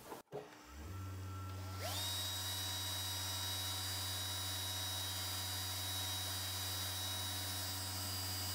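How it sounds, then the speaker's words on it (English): Grinding-wheel spindle spins up and runs steadily with a loud, continuous high whine while tungsten wire is ground to a needle tip, following a brief click at the start. "For that, I start with the grinding wheel over here, inserting the tungsten wire."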